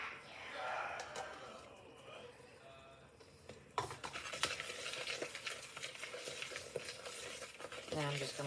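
Tapioca starch and baking soda are whisked in a bowl, a soft, scratchy, irregular stirring rasp that grows busier and louder partway through, close up and fairly quiet.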